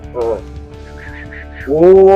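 A person imitates a cat's meow with their voice, giving two drawn-out nasal calls, a shorter one first and a louder one at the end, with soft background noise between them.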